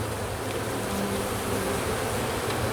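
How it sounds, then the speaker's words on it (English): Honey bees hum inside an opened hive during an early-March inspection, a dense, continuous buzz held close and steady the whole time, with no voices over it. "Decent amount of bees in there."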